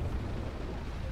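A missile being shot down in the tank game Armored Warfare, heard as a dense, continuous low-frequency rumble of explosive booms and blasts that stays loud and steady throughout, with no talk over it.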